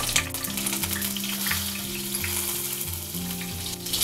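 Cumin seeds, a bay leaf, cloves and garlic cloves crackle and sizzle in hot oil over a low flame for green peas nimona, a continuous close frying hiss with low music underneath.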